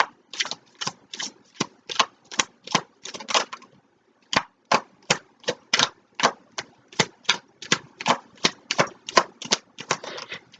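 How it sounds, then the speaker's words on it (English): A deck of tarot cards being shuffled by hand in a rapid, regular series of crisp riffling snaps, close and loud, with one short pause partway through and no talk. "I allow Spirit to kick them out as I shuffle"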